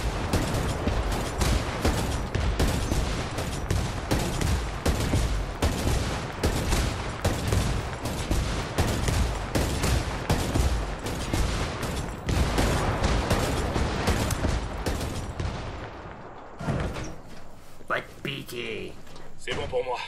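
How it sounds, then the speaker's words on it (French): Heavy, sustained gunfire fills the Ghost Recon Wildlands game battle, with loud, dense rapid bursts and blasts that continue without letup before fading near the end, with someone talking over it. "c'est l'heure d'utiliser l'artillerie lourde"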